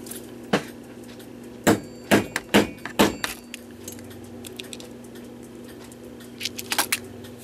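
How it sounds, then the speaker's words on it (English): Several sharp metallic taps from a small hammer on a schoolhouse clock under repair, a few spaced strikes then a quick cluster, followed by faint light clinking. "get my little hammer"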